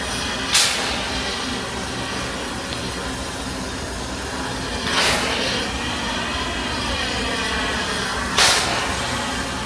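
A Redwood Forest steam locomotive in Santa Cruz stands fired up at close range, giving a steady rumbling hiss broken by three sharp bursts of venting steam.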